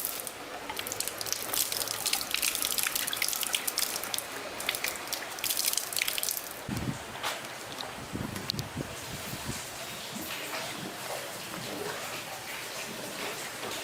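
Water rushes down a pipe toward a hydraulic ram pump once the valve and tap are reopened, a steady close hiss and splash with sharper gurgles and knocks around the middle, no one talking.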